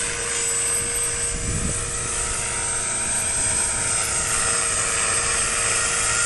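Small RC helicopter hovering and yawing around on its rudder, a steady high-pitched rotor and motor whine that continues throughout with little change in level, no talking over it.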